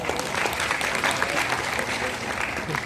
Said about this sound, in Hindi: मेरे सहपाठी दिव्यांश के लिए एक बार जोरदार तालियां।